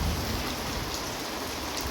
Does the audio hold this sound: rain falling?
yes